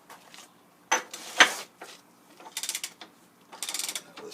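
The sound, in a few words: socket ratchet loosening overarm bolts on a Rockford shaper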